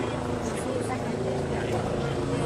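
Helicopter hovering overhead at a Gilets Jaunes street protest in France, a steady low rotor drone filling the background throughout with crowd noise and voices mixed in.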